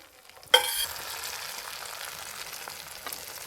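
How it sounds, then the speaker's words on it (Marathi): Beaten egg poured into hot butter and oil for an omelette lands with a sudden loud sizzle burst, which settles into a steady, moderate frying hiss. "आता ऑमलेट सोडून देऊ आपण याच्यामध्ये."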